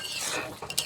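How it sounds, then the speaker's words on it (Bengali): Mashed tomatoes are stirred in a pan to cook off their liquid, a quick scrape of a spoon over a soft sizzle, close and short. "এখন এইভাবে অনবরত নাড়াচাড়া করে টমেটোর জলটাকে আমি শুকিয়ে আনবো।"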